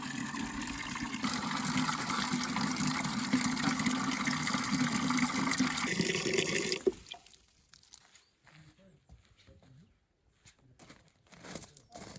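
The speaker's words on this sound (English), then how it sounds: "Time to water him in." Water pours steadily onto a newly planted plant in a courtyard garden, a continuous close splashing flow for about seven seconds that then stops, leaving quiet rustles and small drips.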